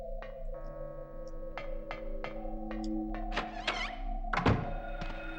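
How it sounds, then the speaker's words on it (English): A stone plate dropping out of a mechanism in the Silent Hill video game, heard as a series of sharp knocks and clunks ending in a heavier thud, close and fairly clear. "And that plate falls right out."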